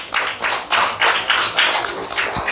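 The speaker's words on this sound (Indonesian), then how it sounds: "Beri tepuk tangan untuk kelompok 3." A small group of fourth-grade children in a classroom claps together in quick, slightly uneven rhythm, close and lively, for a few seconds.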